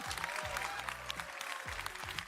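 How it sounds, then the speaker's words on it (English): Applause at the Ubisoft Forward 2024 presentation, steady moderate clapping from a small group that carries on across the whole stretch, with no voices over it. "most of the clapping is coming from on stage"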